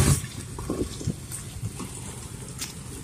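Rainwater on a flooded street makes a soft, continuous splashing and trickling wash, with a few louder splashes near the start and scattered small drips throughout, heard up close and without talk.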